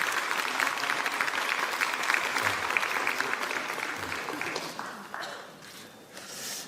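Lawmakers at a party caucus meeting give a sustained round of applause in a large room, dense and steady throughout before tapering slightly near the end.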